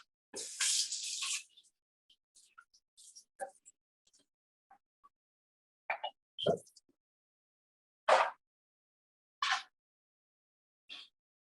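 Water from a kitchen tap runs over hands to rinse off raw fish, in one longer splashing burst at the start followed by several short, separate splashes and drips, close and fairly quiet.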